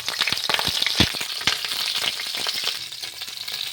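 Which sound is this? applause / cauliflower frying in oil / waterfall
cauliflower frying in oil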